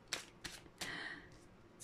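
A deck of oracle cards being shuffled and drawn: a few sharp, close flicks and riffles, then a longer papery shuffle, with no voices.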